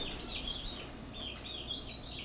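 Chickens cluck softly at a distance, a faint run of repeated calls over low background noise.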